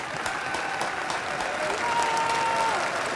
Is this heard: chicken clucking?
no